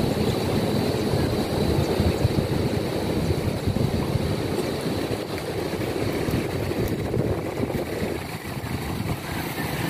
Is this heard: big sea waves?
yes